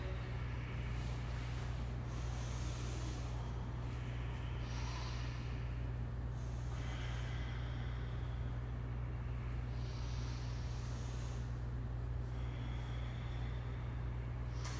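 Long, deep breaths during a kundalini breathing exercise, a series of slow, airy inhales and exhales close to the mic over a constant low hum.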